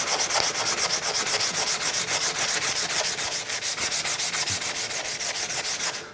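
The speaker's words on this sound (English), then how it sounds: "So let's go ahead and start sanding with this." Rhythmic sanding of a garden tool with a sanding sponge, a rough abrasive scrubbing repeated in quick even back-and-forth strokes, close and loud, with no voices.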